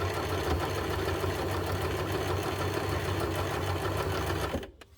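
A basic domestic sewing machine runs steadily as it stitches a blind hem with a blind hem foot, giving a continuous close mechanical whir that cuts off abruptly just before the end.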